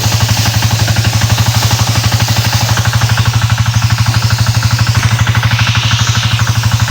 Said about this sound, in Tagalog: Kagandahan ng makina ang ating gamit.